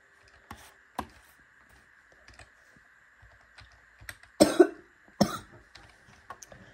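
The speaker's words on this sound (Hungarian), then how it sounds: "Sorry a köhögésért." Two sharp coughs ring out close by amid light clicks and knocks, with quieter scattered taps before and after them.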